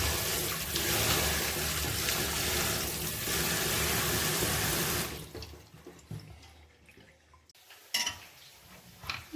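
Water runs and splashes steadily over raw beef being washed, filling the first half, then drips and trickles as it drains in a colander, with a few light clinks of the container.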